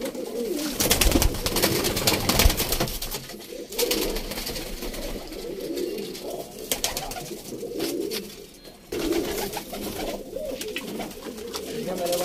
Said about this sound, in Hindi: बहुत ही अच्छे कबूतर हैं क्वालिटी के कबूतर हैं